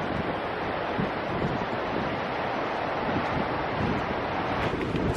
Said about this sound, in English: This wave is rushing in there.